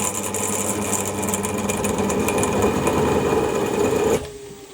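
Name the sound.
drilling silver steel with an 8.2 mm drill bit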